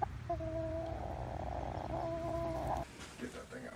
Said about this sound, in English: Chickens that want to fly in your face.